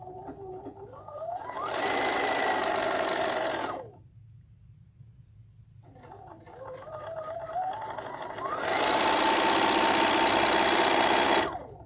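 A sewing machine chain piecing fabric pieces on a quarter-inch seam, two steady whirring runs of fast stitching separated by a pause and a quieter low motor hum, close and alone.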